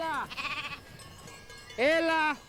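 Sheep on the Greek island of Kefalonia bleat twice, close and clear, with a short rattling sound between the calls.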